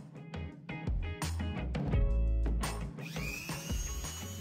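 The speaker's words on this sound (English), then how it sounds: "I used the sanding barrel bit to knock back that rippled plastic." A high-speed Dremel rotary tool with a sanding barrel bit grinds plastic on a model horse in uneven bursts, its whine rising and falling as it is pressed against and lifted off the surface.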